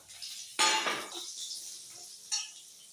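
Potatoes tossed into a hot wok with whole cumin, bay leaf and whole garam masala give a sudden clattering splash and sizzle, followed by a quieter fry and a second brief scrape of stirring.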